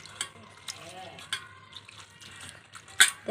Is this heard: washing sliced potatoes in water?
yes